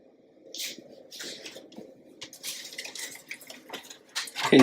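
A wire rack handled on a foil-lined baking pan, giving soft crinkles, light metallic taps and rustles that build in loudness toward the end, close by.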